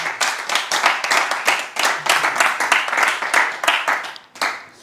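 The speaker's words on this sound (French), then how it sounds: "on va acclamer le grand retour du frère ange" A church audience claps and applauds to welcome a preacher back, with dense, steady clapping close by that continues throughout and briefly thins near the end.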